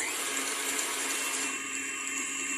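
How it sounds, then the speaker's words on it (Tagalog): An electric mixer whirring steadily through marble cake batter after chocolate milk is stirred in, a constant bright motor hum for a couple of seconds, fairly quiet and with no talk. "I-mixer ulit natin."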